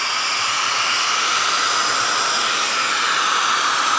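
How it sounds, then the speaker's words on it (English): A hair dryer on low power runs from a LIPOWER Mars-1000 Pro portable power station, giving a loud, steady, even rush of airflow hiss that holds unchanged throughout. "let's go ahead and turn the hair dryer on."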